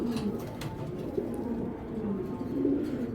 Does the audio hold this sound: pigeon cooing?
yes